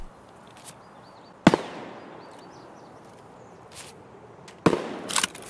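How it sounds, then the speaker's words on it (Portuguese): Two loud, sharp gunshots ring out in Escape From Tarkov while a player shoots a bot, each with a brief echoing tail, the second followed by a short flurry of quieter cracks, against a quiet outdoor backdrop. "Sou eu atirando o bot, tá?"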